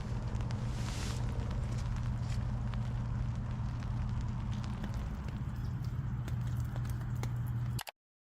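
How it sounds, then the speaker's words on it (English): Footsteps walk behind a person camping in a foggy forest, a steady run of soft crunching steps over several seconds against a constant low hum of outdoor background noise. "hears distinct footsteps behind him"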